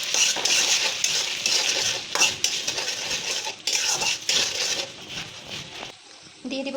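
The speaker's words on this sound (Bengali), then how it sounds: "ভালো করে একটু নেড়ে নেব।" Chalta pickle with sugar and water is stirred in a pan. Irregular metallic scrapes and clinks of the spoon against the pan come in bursts, with a voice talking over parts of it.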